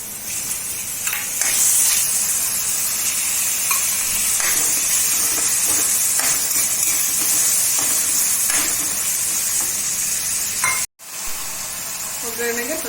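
Tomato dropping into hot onion tempering in a pan raises a steady loud sizzle and hiss, with a few brief stirring clatters and a short cut near the end.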